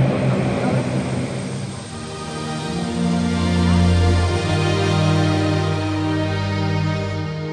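Engines of an Antonov An-225 transport aircraft drone loudly and steadily, with a deep rumbling swell partway through.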